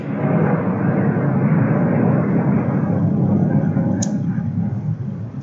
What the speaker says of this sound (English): the airport's like a few miles that way, so planes do pass around a lot